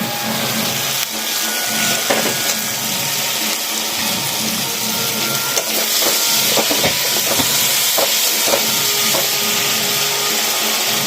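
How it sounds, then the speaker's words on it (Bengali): Fried prawns go into a simmering Bengali prawn curry, producing a loud, constant hiss of steam and bubbling with faint clinks near the pot and no speech. "এবার আমি ভাজা চিংড়ি মাছটা দিয়ে দিচ্ছি।"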